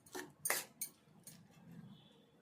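A utensil mixes rice, egg and pieces in a pan with a few quiet, irregular metallic clinks and scrapes, close by and with no talk.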